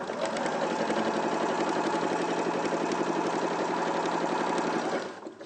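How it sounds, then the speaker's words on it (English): A sewing machine stitches fabric with matching thread in a steady, fast, continuous whir that runs close and loud, then stops abruptly at the end. "Now you're sewing with a matching thread"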